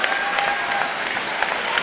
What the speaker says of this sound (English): they get a round of applause from the crowd